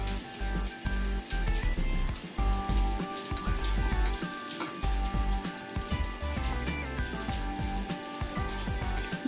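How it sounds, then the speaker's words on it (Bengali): Fish roe fritters bound with gram flour crackle steadily in oil over medium heat, a dense, continuous sizzle with small pops and occasional utensil knocks. "আমি আঁচটাকে মিডিয়ামে রেখে এবার ডিমের বড়াগুলোকে এর মধ্যে দিয়ে দেবো"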